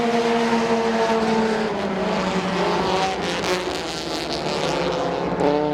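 Race cars roar around a speedway track in a loud, continuous engine din, several engines overlapping as they run side by side down the back straightaway.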